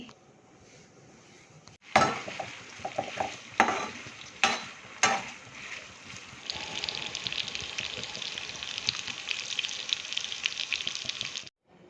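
Pre-boiled prawn pieces dropped into hot oil for a prawn and ridge gourd curry: a few sharp spoon clinks and stirs, then a broad, steady, close sizzle of frying that runs on until it cuts off near the end.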